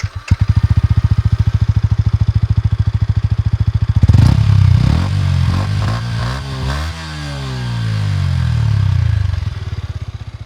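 A Yamaha MT 125 motorcycle with its stock exhaust idles close by in a steady rapid thumping pulse, then gets blipped through several rising and falling revs before settling back toward idle.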